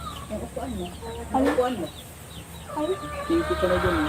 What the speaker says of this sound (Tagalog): Ang ingay nung mga manok.